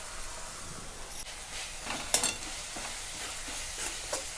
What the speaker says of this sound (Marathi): हे आपण तुरीचं बी घेतलेलं भाजून हे मी टाकून घेते.